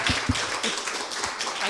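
Audience applause at a live album launch in a community church, with scattered claps and cheering forming a steady, fairly close wash of clapping throughout.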